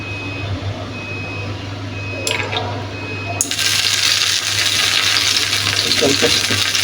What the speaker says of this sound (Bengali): তাওয়াটা গরম হয়ে গেছে। এখন আমি তেল দিয়ে দিব।